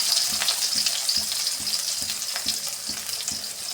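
Shallots frying in hot oil with mustard seeds and urad dal give a loud, continuous sizzle with crackling spatter and a steady rhythmic scrape of stirring, close by.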